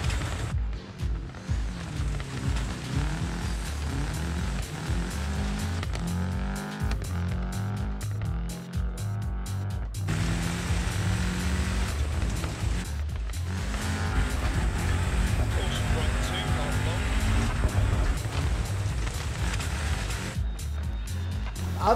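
A rough, sputtering damaged rally car engine in the video game Crest WRC revs and idles unevenly, rattling and grinding with shifting pitch, loud and continuous without talk.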